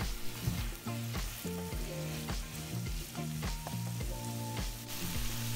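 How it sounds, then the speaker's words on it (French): Bean sprouts and sauce are stir-fried in a pan with a steady sizzle and rhythmic scraping and clinking of a utensil against the metal, close and fairly quiet, with no talking. "On verse ça dans la poêle. Et on remue bien pour bien répartir cette mixture et surtout pour cuire et épaissir la sauce."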